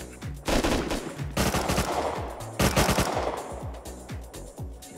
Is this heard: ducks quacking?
no